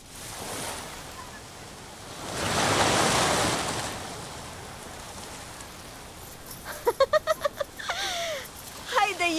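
Waves wash and splash in a broad noisy surge by the water's edge, swelling loudest midway, with a voice and laughter breaking in toward the end.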